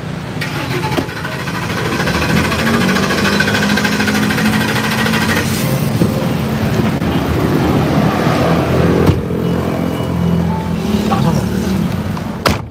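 An old, worn-out Ford Expedition in poor roadworthy condition cranks and runs with a loud, continuous mechanical rattle and clatter, close by, for about twelve seconds without pause.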